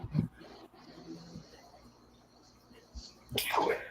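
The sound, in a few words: sneeze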